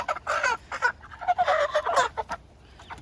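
A flock of about nineteen backyard chickens being rounded up in small groups for slaughter clucks close by in a run of busy overlapping bursts, dying down near the end.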